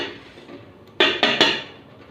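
A metal lid set onto a pot of rice cooking on low heat, giving three sharp, close clanks in quick succession against a quiet kitchen background.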